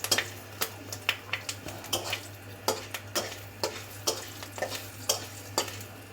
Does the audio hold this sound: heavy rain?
no